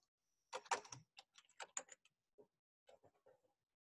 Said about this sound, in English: So I just typed it into the box